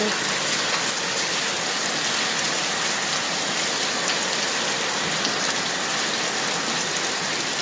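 Heavy monsoon rain pours steadily outside a house, a dense, loud, unbroken hiss of drops on surfaces that fills the whole stretch without a break.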